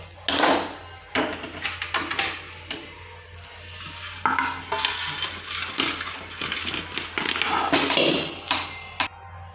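Roasted dried fish tipped from a pan onto a plate, giving a run of dry clattering rattles and scraping as the pieces land, with a low steady hum underneath.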